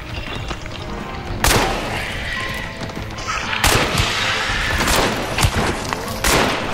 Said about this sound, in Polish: O, słyszę strzały, blisko są.